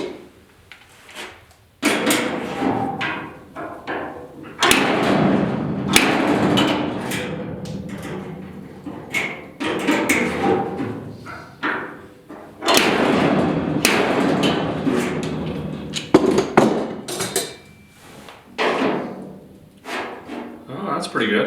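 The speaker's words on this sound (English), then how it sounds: "hammer on that some more." Steel body hammer beating dents out of the passenger-side box panel of a 1972 Ford 4x4 short-box truck, in clustered bursts of sharp metallic blows separated by pauses.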